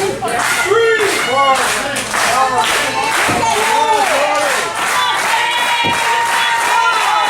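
Wrestling fans at a live independent show cheer and clap rhythmically during a referee's ten count, a loud, steady crowd roar with rising shouts, under excited commentary.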